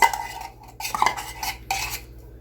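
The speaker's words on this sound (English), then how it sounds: "Now we mix everything together." A spoon scrapes and clinks against a bowl while no-bake icebox fruitcake ingredients with sweetened condensed milk are stirred together, several bright irregular metallic taps and scrapes at close range, no talk.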